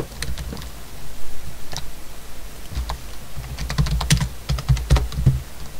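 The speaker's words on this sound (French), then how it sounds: "si vous entendez que je tape fort sur mon clavier" Rapid clicking of computer keyboard keys in uneven bursts, close and fairly loud, with no one speaking.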